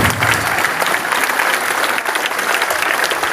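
A crowd at an awareness event at Karaikal Polytechnic College applauds the district collector and administration. The loud, dense clapping from many hands holds steady for over three seconds with no voices on top.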